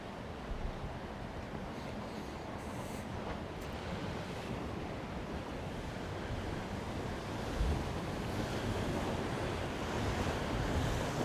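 Waves break continuously on the shore at Costa de la Calma in January, a broad steady roar of surf mixed with gusty wind buffeting the microphone, swelling slightly toward the end.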